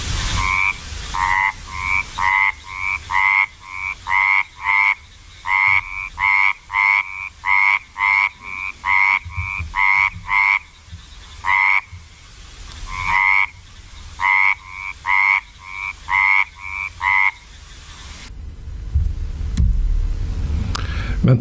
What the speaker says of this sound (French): Ça, c'est une grenouille d'un groupe voisin qui vit aussi dans les rizières.